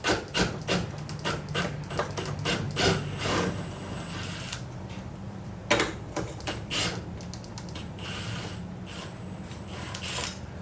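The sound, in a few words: removing transmission mount bolts during clutch job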